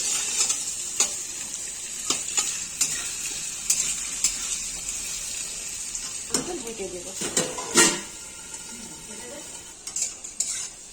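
Potatoes fry in oil in a wok, giving a steady sizzle under repeated metal clicks and scrapes of a spatula, with a louder clatter of utensils near the end; close by, with brief murmuring voices.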